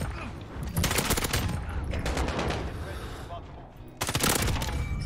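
Dense bursts of M13 rifle fire from a Modern Warfare multiplayer match, loud rapid volleys filling most of the clip with a brief lull before a final burst, with some voice chat underneath.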